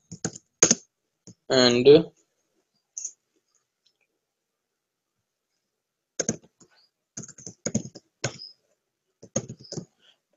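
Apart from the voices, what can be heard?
typing code on a computer keyboard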